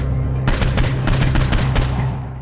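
Rapid bursts of automatic gunfire in the Saints Row 4 video game, loud and close, with sharp shots repeating over a steady low hum from about half a second onward.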